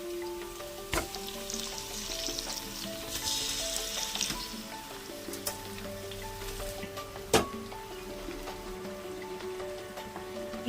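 Marinated fish sizzles in hot oil in a pan for a Rayalaseema-style fish curry, a soft steady crackle with a few sharp pops and clinks, close and quiet.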